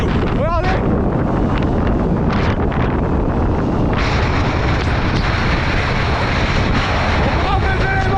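Strong wind buffets the microphone during a 100 km ultra trail race, a loud, constant roaring rush with gusty surges throughout and a brief voice-like squeal near the start.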